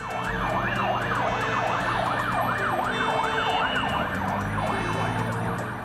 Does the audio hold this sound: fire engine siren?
yes